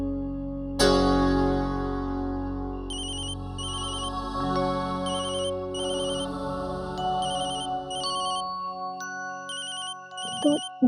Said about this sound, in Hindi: तो नैतिक जी का फोन है